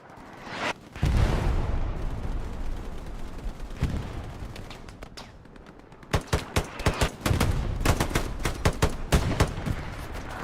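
STG assault rifle fire and other gunshots in a Hell Let Loose competitive match, with a sharp shot near the start, then a lull and a later run of rapid, loud cracks and bursts, some close and some more distant.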